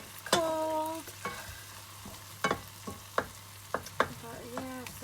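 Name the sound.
stirring and mashing tomatoes in curry pot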